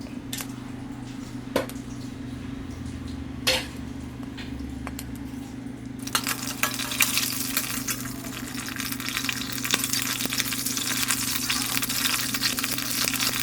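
Whole spices hitting about a hundred grams of hot oil in a kadai: a low steady hum at first with a few sharp clatters, then a sudden loud, crackling sizzle bursts in halfway and keeps going.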